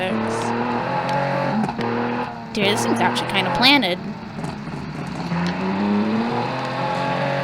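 A flat-six rally car's engine revs and rasps nearby at a river rally, pitch rising and falling through gear changes, with someone talking over it.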